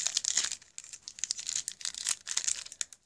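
A Pokémon card pack cut open with scissors: close, crisp crinkling and snipping of the foil wrapper in quick irregular bursts, fairly quiet and with no talking.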